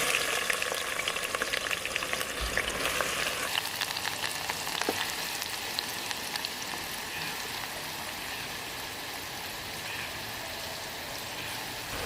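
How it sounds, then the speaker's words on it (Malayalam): Onions sauté in a pan for Kerala chicken biryani, a dense continuous sizzle with crackling and occasional stirring scrapes that stays steady and close throughout. "നമ്മളിപ്പം ചിക്കനുള്ള സവാളയാണ് വഴറ്റാൻ പോകുന്നത്."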